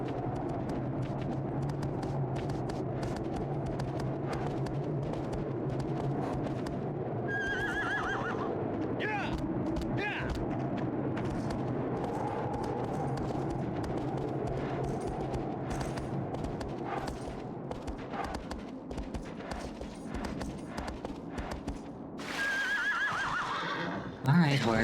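Horses whinny twice amid a busy Shadow of the Colossus game soundscape with hoof clatter and background noise, while a person talks throughout.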